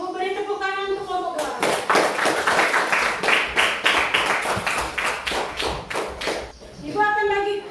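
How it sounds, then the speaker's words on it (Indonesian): A class claps for a group of students: a burst of applause runs from about 1.5 to 6.5 seconds, loud and close, with a teacher speaking before and after it. "Beri tepuk tangan untuk kelompok"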